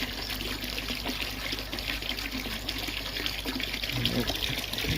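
Water pours and gushes steadily into a newly lined garden koi pond, a continuous splashing rush that stays loud and even throughout, with some faint background murmur.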